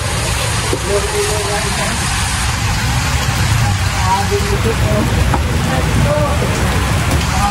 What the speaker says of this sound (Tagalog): Lakas ng ulan.